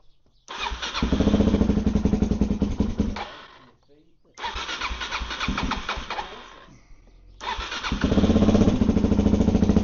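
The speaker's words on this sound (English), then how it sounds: "so I'll just try and start this bike" A dirt bike engine, clutch held in, kicks into life three times, each burst revving loudly and then dropping away before catching again, close by with nobody talking.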